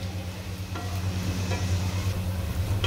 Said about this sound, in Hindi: तो हम पहले अच्छे से लहसुन को और अदरक को भून लेते हैं